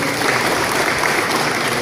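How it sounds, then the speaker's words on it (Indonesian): A crowd claps steadily at a Pemuda Pancasila organisational gathering for the Serang regency branch, a dense, even patter of many hands sustained throughout without a break. "Tepuk tangan dulu"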